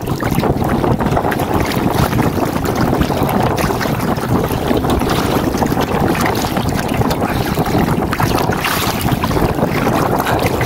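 Strong storm wind blowing over open water as heard from a boat near a cyclone, a loud, unbroken roaring rush buffeting the microphone for the whole stretch.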